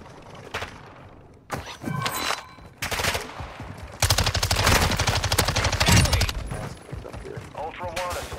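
Rapid automatic gunfire in the Call of Duty DMZ video game, loud bursts and sustained volleys that swell into near-continuous firing through the middle, with occasional quiet gaps between strings of shots.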